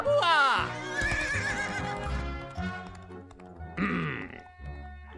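A horse whinnies loudly twice, once at the start and again near the end, with hoof clip-clop and voices in between.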